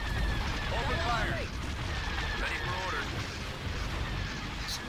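Battle gunfire in the Star Wars Empire at War video game: a steady wash of rumbling blasts and laser-like sweeps, continuous and moderately loud, with speech mixed in.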